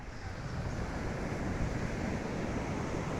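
Sea waves wash onto the beach at Baler, Aurora, heard as a steady, dense roar of surf mixed with wind buffeting the microphone, continuous and unbroken with no voices.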